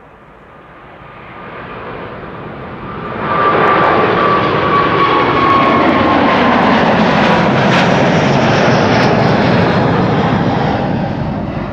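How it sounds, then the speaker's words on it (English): A China Airlines Airbus A350 jet at Amsterdam Schiphol roars loud and close, its engine noise swelling sharply after a few seconds and then holding as a broad, steady rumble with a thin whine riding on top. "Next up, carbon fiber A350 going to Taipei."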